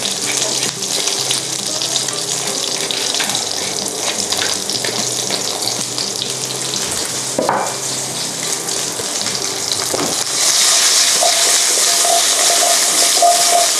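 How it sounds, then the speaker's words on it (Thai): Pork chop steaks being quick-stirred and tossed over high heat in a hot pan, a steady loud hiss and sizzle running throughout, growing a little brighter and louder toward the end. "เราก็ผัดอย่างเร็ว คล้ายๆคั่วมันนะ"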